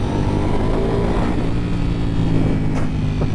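A 2024 Ducati Panigale V4S sport bike running in second gear at road-legal speed, its engine a steady, loud drone with dense low harmonics and wind rush, with no pitch climb and no talk.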